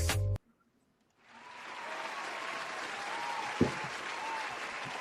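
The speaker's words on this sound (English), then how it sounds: "Let's get a round of applause together for Judah Agape." After a brief loud burst and a moment of quiet, an audience at a church testimony service breaks into steady, moderately distant applause that swells and holds.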